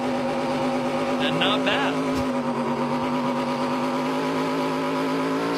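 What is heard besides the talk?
ARCA race car burnout hitting the rev limiter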